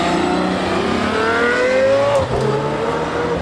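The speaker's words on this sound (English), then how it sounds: "I can hear some revolutions from the Diablo." A Lamborghini Diablo supercar engine revs steadily with rising harmonic pitch, loud and sustained amid other passing supercars at a car show, with a brief dip near the end.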